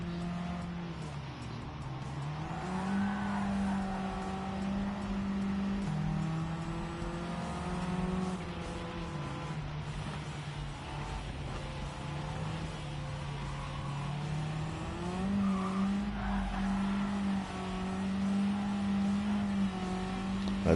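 A race car engine in Gran Turismo 7 drones loudly and continuously, its pitch rising and dipping through gear shifts and throttle changes over about twenty seconds, with occasional tire noise and no talking.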